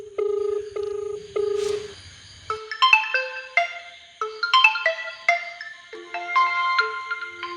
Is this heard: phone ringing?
yes